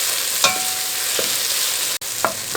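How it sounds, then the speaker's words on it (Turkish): Peppers and garlic sautéing in a pan, a steady bright sizzle running throughout with a few soft scrapes of stirring and one brief sharp click. "Şimdi sarımsağını ekliyorum. 2-3 dakikada sarımsağıyla soteleyeceğim."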